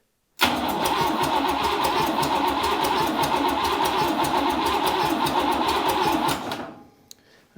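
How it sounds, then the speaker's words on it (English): A Buick Nailhead V8 in a rail dragster cranks on its starter for about six seconds without firing, a loud, close, fast rhythmic grinding churn that cuts off abruptly, followed by a single faint click. "Turn the ignition on and"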